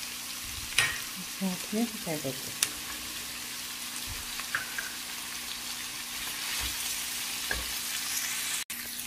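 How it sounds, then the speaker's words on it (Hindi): Mixed vegetables with cauliflower and potatoes sizzle steadily in a hot pan, a continuous frying hiss broken by a few scrapes and clinks of a spoon, with a brief spoken phrase early on. "इधर जब तक ये हमारे फ्राई हो रहे हैं अच्छी तरह से"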